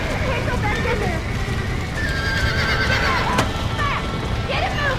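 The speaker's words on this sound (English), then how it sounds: "Now get the horses out!" Horses whinny repeatedly over a steady clatter of hooves, with shouting voices and a busy background din throughout.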